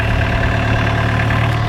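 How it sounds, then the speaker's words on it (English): A tractor engine idles at a steady, even rumble with a strong low hum, close and constant throughout, no voices over it. "Look, Mr. Brown, a tractor."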